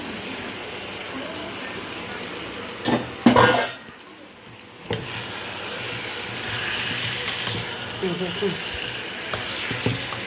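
Taro stolons tossed into hot oil and stirred, giving a steady sizzle with scraping stirs and a loud clatter partway through, while a voice speaks briefly over the frying.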